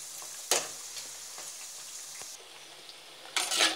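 Mathri frying slowly in oil over a medium flame, a steady close hiss of sizzling with a few brief clatters and a louder burst of bubbling near the end.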